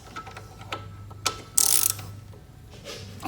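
A ratchet wrench snugging a 17 mm nut on a Venom motorcycle footpeg assembly against white metal, giving a few sharp close clicks and one brief louder burst of ratcheting amid quiet handling.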